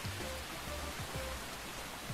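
Rain falling in the Forager video game, a steady hiss of rainfall filling the clip, with faint soft tones from the game underneath and no talking.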